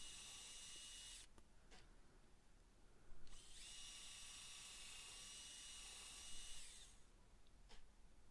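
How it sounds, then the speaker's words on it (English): A high-pitched drill whines in two bursts boring thin pilot holes in scrap wood, each running a few seconds, with short pauses and faint clicks between them; fairly quiet and close, no talking. "I could then drill some thin pilot holes."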